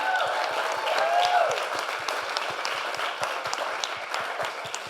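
An audience at a women's real estate panel clapping for a speaker, moderately loud steady applause that carries through the whole stretch, with faint voices mixed in underneath.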